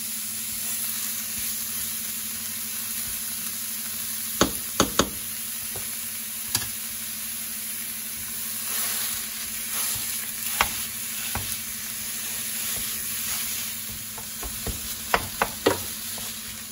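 A pound of ground beef browning in a pot: a steady, close sizzle and hiss runs throughout, punctuated by a few sharp knocks and clicks of a utensil stirring against the pot.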